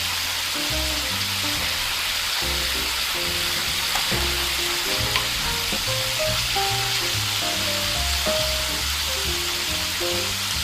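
Beef frying in a pan with soy sauce gives a steady, fairly loud sizzle that runs without a break beneath background music.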